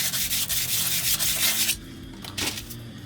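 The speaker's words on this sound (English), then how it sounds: "take some sandpaper, because this is going to have to be surface ground anyway" Sandpaper scrubs by hand across the steel of a kitchen knife blank, a close, loud rasping rub in quick repeated strokes that stops abruptly midway, followed by a few fainter scrapes.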